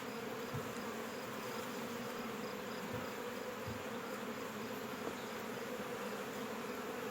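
Honey bees humming around an open hive during an inspection, with frames being handled; a dense steady buzz throughout, moderately close with occasional faint knocks, no voices.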